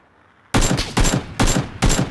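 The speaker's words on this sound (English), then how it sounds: "Nice shooting, though." Bursts of gunfire in a battle royale video game: four loud, close volleys of rapid shots in quick succession after a brief quiet start, with no talking.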